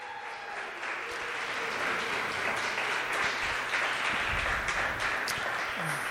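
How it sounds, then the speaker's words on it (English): Sustained audience applause for the speakers at a live storytelling event, a steady dense wash of many hands clapping at moderate distance, continuing evenly for several seconds with no speech over it. "give all of our speakers a round of applause"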